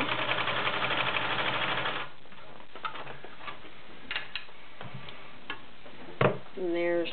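A White 742 convertible free arm sewing machine runs fast and steady through denim for about two seconds, a dense rapid chatter, then stops, leaving quiet handling clicks and faint rustles.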